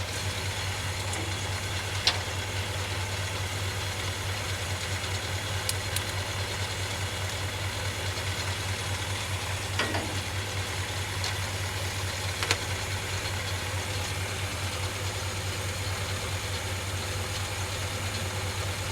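A 1969 Ford F100 pickup engine idles steadily after its first start in years, a constant low rumble with a strong hum running throughout, and a few faint clicks and taps over it.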